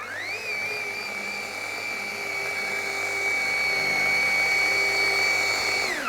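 A car polishing machine turning at low speed, speed 1, spreading polish with a sponge pad: a steady, close whine with a sustained high tone that holds even throughout, no talk.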